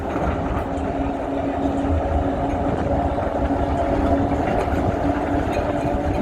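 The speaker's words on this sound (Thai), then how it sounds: "จะถ่ายรถรางให้ดูเนาะ" A steady, loud rumble of a tram rolling along rails in central Stockholm, with a continuous low drone and faint rattling throughout, no pauses.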